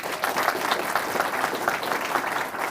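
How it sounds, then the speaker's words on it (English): Audience applause at a Department of Homeland Security Secretary's awards ceremony in San Antonio, Texas, as a crowd claps steadily and evenly for a volunteer award honoree, the dense clatter sustained without a break. "round of applause for Mike"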